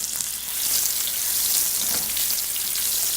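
Salmon frying in olive oil and butter, a dense, even hiss of sizzling fat with faint crackles and pops, close and steady for the whole stretch.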